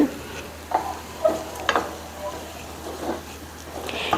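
Food sautéing lightly in a pan for a paruppu urundai kuzhambu, with soft sizzling under a series of scraping stirs, several distinct strokes at an unhurried rhythm, close and moderately quiet.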